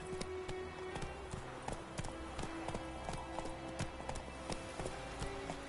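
Horse hooves clip-clop at a steady galloping rhythm in The Witcher 3, the repeated sharp beats running evenly across the whole stretch over a constant game backdrop.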